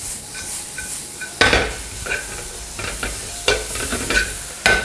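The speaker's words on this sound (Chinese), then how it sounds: "先给它炒一炒" Garlic, shallot, pepper and carrot strips sizzle steadily in hot oil in a wok, with a spatula repeatedly scraping and clanking against the pan in quick, close strokes.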